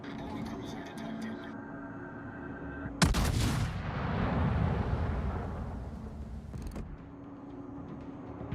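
Warship guns fire in World of Warships: a single sudden heavy boom breaks out, then a rolling rumble trails off over several seconds, with game sounds before and after.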